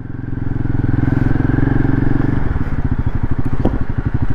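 A motorcycle engine turns over and catches, settling into a loud, close, rapidly pulsing idle, with a slight clatter partway through.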